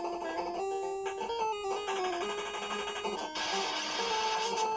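Famicom game audio from Super Dimension Fortress Macross (Thunder Bird hack): beeping chiptune tones and stepped electronic sound effects, steady and continuous, with no voices.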